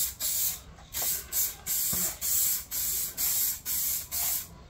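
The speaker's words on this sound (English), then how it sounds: "giving them a wipe down, give them a quick spray." Aerosol spray can hissing in a run of short, loud bursts with brief pauses between them, close to the microphone, while rear lights of a VW T4 van are sprayed; no one speaks.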